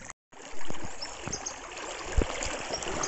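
River water trickles and gurgles around someone wading through a clear, shallow river, with soft splashes and a brief sharper slosh near the end, close by and moderately quiet.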